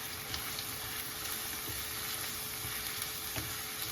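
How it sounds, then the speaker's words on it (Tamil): Steady sizzling of egg curry masala and salt sautéing in a hot pan, continuous and even, with occasional soft stirring scrapes. "இப்போ இது நல்லா வதக்கலாம்."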